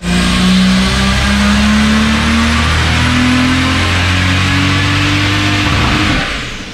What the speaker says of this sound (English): That hit the rev limiter?